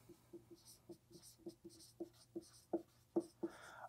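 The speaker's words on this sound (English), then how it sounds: "I'm going to write down the answer" Pen or pencil writing down a math equation answer on paper, a run of short scratchy strokes and taps in a quick uneven rhythm, close and fairly quiet, with no talking.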